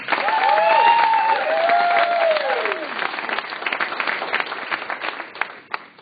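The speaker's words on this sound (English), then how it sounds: "Let's give them a round of applause again." An audience applauds loudly and steadily for about six seconds at a talk, with a few shouts and whoops rising over the clapping early on before it thins out toward the end.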